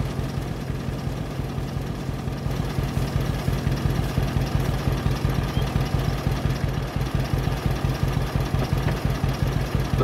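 A farm machine engine runs steadily in Farming Simulator 22 while chopping hay for silage at an Iowa dairy, a loud, close, low throbbing drone with a fast, even pulse throughout.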